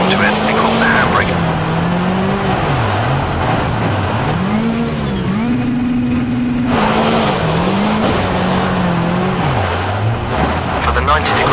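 A rally car in Richard Burns Rally slides through a hairpin on the handbrake, its engine droning and revving up and down close by throughout while a voice talks over it.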